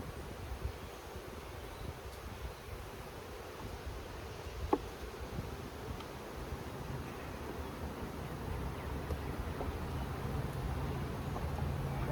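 Honeybees from a trap-out buzzing in and around a crowded hive box, a steady low droning hum that fills the background with a few faint clicks and handling noises.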